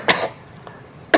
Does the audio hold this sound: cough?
yes